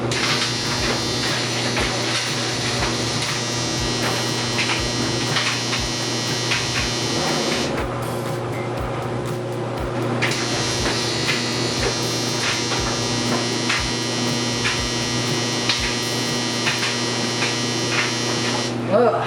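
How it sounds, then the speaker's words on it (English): A loud, steady electric buzz from a Hotpoint propane clothes dryer drones on, cutting out briefly midway before resuming, with a person speaking over it at times. "What was that loud buzzing noise?"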